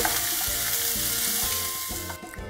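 Strips of beef tripe frying with garlic in a hot pan, a continuous bright sizzle under faint rhythmic tones, steady and close, with no voices.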